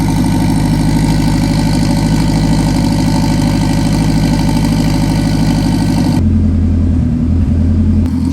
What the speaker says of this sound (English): She's idling smooth.